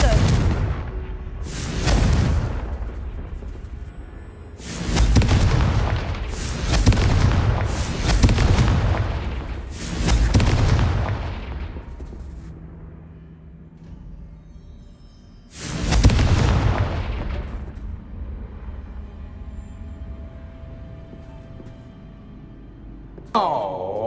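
Confringo blasting spells in the video game Hogwarts Legacy erupt as a string of loud booming explosions, several in quick succession and each trailing into a rumble, then a final big blast after a pause.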